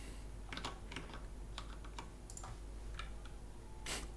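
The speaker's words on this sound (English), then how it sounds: "Keyboard sounds really good." Typing on an office computer keyboard, a run of crisp clicking keystrokes in irregular bursts, close and fairly loud with steady background hum and no talk.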